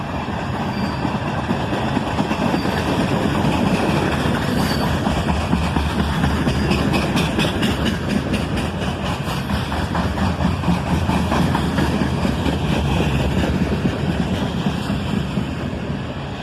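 A long CSX freight train rolls steadily past close by, a string of covered hopper cars producing a continuous loud rumble with rhythmic clickety-clack of wheels over rail joints, moving at a relaxed pace.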